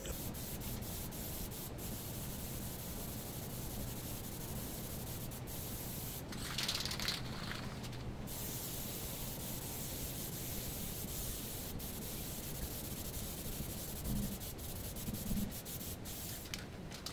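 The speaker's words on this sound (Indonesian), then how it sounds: "Penyemprotan clear glossy juga sama, kita semprot tipis-tipis terlebih dahulu secara merata" A Diton Premium clear gloss coat is sprayed from an aerosol can onto a Vrossi motorcycle, making a continuous close hiss that holds steady with a few brief swells.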